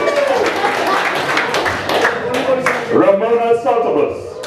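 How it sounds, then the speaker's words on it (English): Audience clapping for a group at a Saint Lucia community event, moderately close and mixed with voices talking and cheering over it, rising and falling rather than steady. "Round of applause for Group 1"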